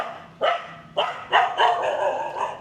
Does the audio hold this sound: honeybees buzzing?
no